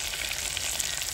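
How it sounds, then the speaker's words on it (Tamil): Mustard seeds crackle in well-heated oil as a dense, bright spitting sizzle that stays even through the short moment, up close with no voices. "என்ன நல்லா சூடாயிட்டு அந்த கடுகு நல்லா பொரிஞ்சு"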